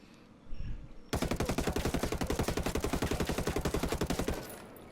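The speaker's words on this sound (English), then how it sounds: "Now that's firing like an assault rifle" An FAL rifle fitted with a compensator firing full auto in Ghost Recon Wildlands, one loud rapid burst of evenly spaced shots lasting about three seconds, close, followed by quiet.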